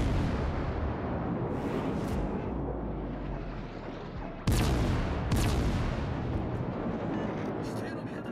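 Heavy warship guns boom during a naval video game match, rumbling salvos with sharp blasts around the middle and toward the end, heard beneath a player talking.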